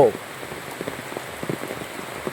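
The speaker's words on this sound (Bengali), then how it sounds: "সকালবেলা ঘুম থেকে উঠেই বৃষ্টির রিমঝিম শব্দ" Morning rain falls in a steady, even patter on a surface, a continuous wash of droplets close by with no voices.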